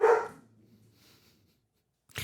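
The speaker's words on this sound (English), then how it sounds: "We got a fanfare from the dogs." Dogs give a loud, close bark at the start, then a short second burst near the end, with soft low rumbling between.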